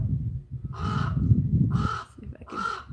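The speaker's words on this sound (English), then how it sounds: "I wonder if it must be a raven." A large crow or raven in a suburban garden gives three harsh, loud caws, evenly spaced about a second apart, over a low background rumble.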